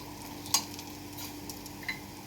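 Curry being stirred in a pan after milk is poured in, a soft steady simmering hiss with a few light spoon scrapes and taps against the pan.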